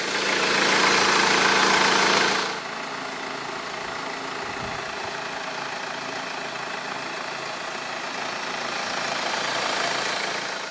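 A 2013 Mercedes-Benz E 220 CDI Estate's OM651 2.1-litre twin-turbo diesel inline-4 idles steadily and close by, with a louder, rougher burst for the first couple of seconds before it settles into an even diesel clatter.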